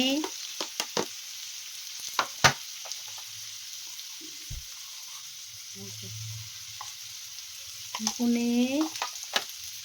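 Cumin and ground spices, including Kashmiri chili and turmeric, frying in a pan in a home kitchen, giving a steady soft sizzle with occasional sharp clinks and scraping of a utensil, swelling louder near the end.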